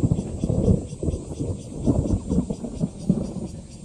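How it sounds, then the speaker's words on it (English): Low, continuous thunder rolls over New Danshui Golf Course, a broad rumble that swells and fades throughout, heard outdoors with no talk over it. "Lots of thunder action around us."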